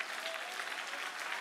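A church congregation applauds in praise of the Lord, giving a short, steady, fairly faint wash of clapping with no voices.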